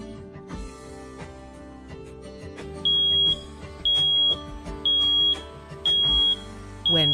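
A T.Stat VLS tissue oximeter's low-saturation alarm beeps five times in a steady rhythm, each tone high and sustained for about half a second, over background music.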